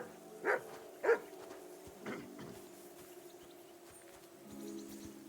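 Dog barking in the video game Kingdom Come Deliverance 2: two sharp, close barks in quick succession, then a softer third bark, over low ambient game noise.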